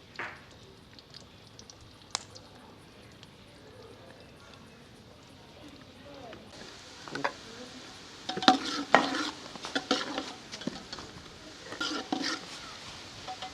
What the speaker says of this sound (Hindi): 2 बारीक कटे हुए प्याज हैं मेरे पास, ये इसमें शामिल कर लेंगे। प्याज को सुनहरा होने देंगे।